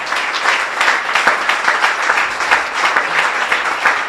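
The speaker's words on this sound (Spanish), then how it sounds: "Ven, Teresita, dar un aplauso al Señor también." Church congregation applauding, a dense, loud, continuous patter of many hands clapping close by, sustained evenly with no speech over it.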